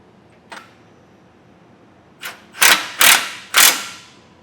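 A bolt is threaded into a bracket while a Roadmaster Direct-Connect base plate is fitted to a vehicle. A faint click comes first, then a run of four sharp, close ratcheting bursts in an uneven rhythm.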